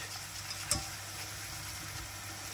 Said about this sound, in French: on touille notre préparation comme ceci